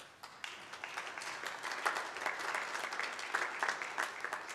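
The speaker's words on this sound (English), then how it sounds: "Somebody from a battery manufacturer perhaps clapped there first." Audience applause at the Climate Week opening ceremony in New York City starts thin and quickly swells into steady clapping from a sizeable crowd, heard at a moderate distance with no talk over it.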